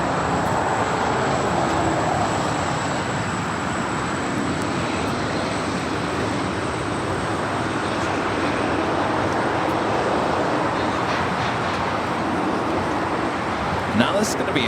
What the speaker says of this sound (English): It's MD-11 freighter named Genie